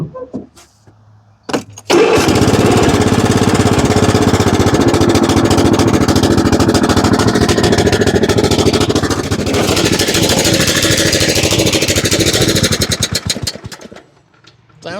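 A Yard Machines riding mower engine with its choke stuck on runs loud and rough, starting abruptly after a short quiet lead-in, holding a steady, uneven roar, then dropping away near the end.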